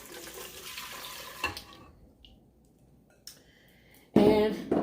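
Warm milk is poured from a cup onto butter in a mixing bowl while making homemade cinnamon rolls, a brief liquid splash that is faint at first and then a louder rush near the end.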